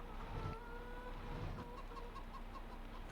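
Chickens cluck in short bursts over a steady low rumble and ambient hum in the farming video game Farming Simulator 25, with no voices present.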